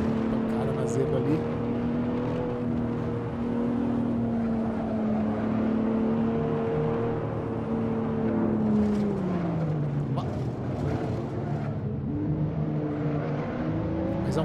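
Racing car engine in Assetto Corsa driving on an icy track at up to about 250 km/h, a steady droning whine that holds pitch then drops as the car shifts, with a voice speaking over it.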